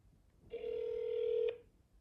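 A single telephone ringback tone on an outgoing call to an automated pizza-ordering line, one steady electronic tone lasting about a second, clear and alone over faint line hiss.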